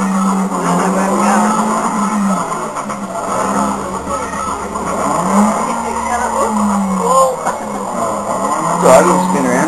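A car driven on a racing course spins around, with a steady engine drone and a rising and falling pitch broken by tire noise, loud and close under voices talking.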